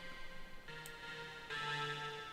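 Quiet, sustained synthesized bell tones from a Rezo noise bells preset ring with shimmering overtones, a new note entering about every second and layering into a soft, resonant wash, without reverb.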